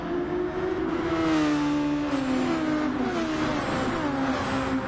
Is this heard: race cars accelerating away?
yes